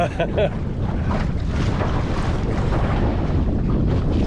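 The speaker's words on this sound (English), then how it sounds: "now we're hitting the wind again" Steady wind roars across the microphone aboard a lugger sailboat heeling close-hauled in decent winds, with continuous rushing gusts and water wash filling the whole stretch at a loud, even level.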